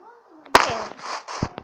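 A single sharp TNT block explosion in Minecraft bursts out loudly after a moment of quiet, followed by a crackling, rumbling tail and a few scattered thuds, with a voice talking faintly beforehand.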